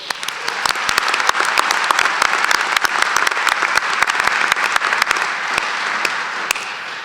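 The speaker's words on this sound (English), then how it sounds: "Round of applause." Loud, lively applause from a chiropractic college commencement audience honoring new graduates, with crisp nearby claps punctuating a thick, continuous roar of clapping that tapers slightly near the end.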